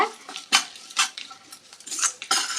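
A metal spoon scrapes and clinks against a vessel in uneven strokes as rice is mixed with curry leaves and coriander for coconut rice, close and fairly loud, with no speech.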